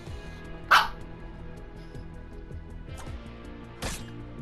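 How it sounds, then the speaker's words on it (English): Dogs barking indoors, two sharp loud barks about three seconds apart with a fainter yip between, heard alone over a quiet background hum. "Excuse the dogs, my guys."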